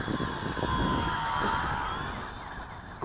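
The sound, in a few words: Max Thrust Riot RC airplane flying, electric motor and propeller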